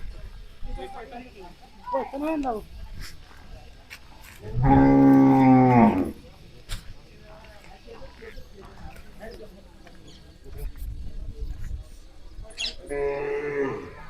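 A Khillar calf at a village cattle show lets out one loud, drawn-out moo of about a second, with a shorter call near the end, while people talk and crowd noise carries on around it.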